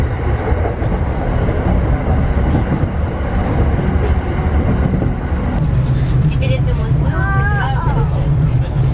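A Tokyo subway train rumbles loudly and steadily from inside the carriage, a constant low roar that shifts partway through as brakes squeal faintly, with an onboard announcement voice over it.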